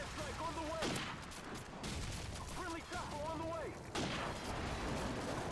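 Rapid gunfire bursts from Call of Duty 4 on PC, loud and dense across the whole stretch, with game sound effects and a voice talking over the shooting.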